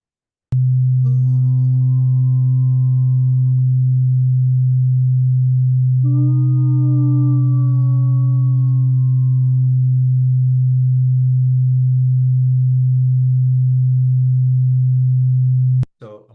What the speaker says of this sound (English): That pulsing is called beating.